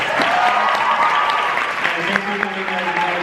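Audience at a festival screening Q&A gives sustained, even clapping close up for several seconds, with a few voices and whoops mixed in.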